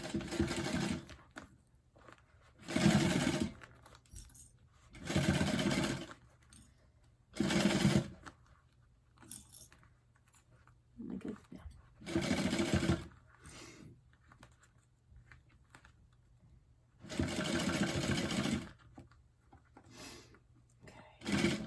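A sewing machine bastes fabric for a bag in repeated short bursts of rapid stitching. Quiet pauses fall between the runs, and the sound is close but fairly soft.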